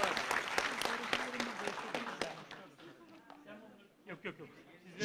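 An audience applauds at a federation congress as a speaker is invited on stage, a burst of sharp claps that thins out and fades over a few seconds, with some voices underneath.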